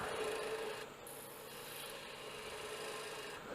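A wooden finial spinning on a lathe while a tool cuts a taper into it, a steady continuous scraping hiss with a faint whine, close and unbroken.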